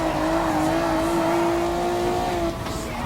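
Super GT 2008 GT500 race car engine in Gran Turismo Sport, a loud steady high-pitched drone holding pitch through a corner, with a slight drop near the end while overtaking an SC430.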